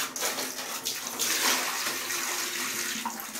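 Water splashes and runs steadily while play sand for a hermit crab habitat is rinsed, a continuous close hiss with small sloshing surges.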